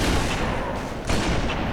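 Continuous, dense gunfire from a Halo 3 firefight against Brutes, loud and sustained with no breaks in the volley, pressing close throughout.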